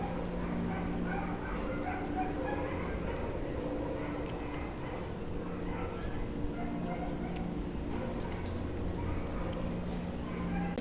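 Excited dogs barking, yipping and whimpering in a steady busy mix, fairly close, with a person talking over them.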